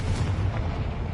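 A Confringo spell explosion from Hogwarts Legacy, heard as a deep rumbling boom that holds steady and loud for about a second with no voices.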